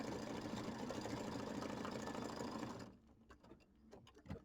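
A sewing machine stitches a small star onto Mylar for a Kimberbell mini quilt, giving a steady, loud, close whirring run that stops abruptly, followed by a few faint clicks and taps.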